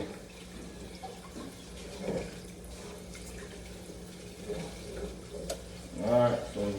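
Running water from a tap splashes over raw chicken being rinsed for crispy parmesan chicken, a soft uneven spray with clattering kitchen noise and a brief louder burst near the end.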